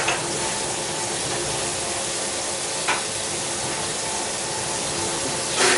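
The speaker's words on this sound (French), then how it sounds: "Je cuis vraiment les cèpes comme une viande." Porcini mushrooms sizzle and fry steadily in a hot pan, a dense close crackle with a few brief louder spatters or stirs, no voices.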